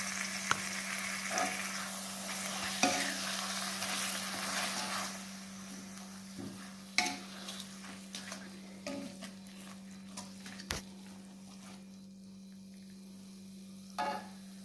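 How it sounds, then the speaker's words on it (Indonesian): Ground chili sambal paste fries in a wok, a soft continuous sizzle with occasional stirring scrapes and clicks under a steady low hum, fading toward the end, with no talk. "langsung kita masukkan ke dalam katel untuk digoreng sambalnya"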